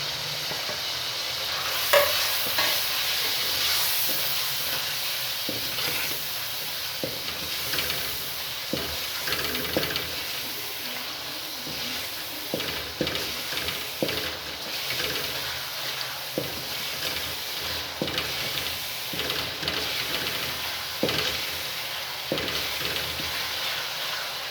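Spice masala for a whole masoor dal sizzles in a pan while being stirred, a continuous frying hiss broken by repeated scraping clicks of the spoon, close and alone.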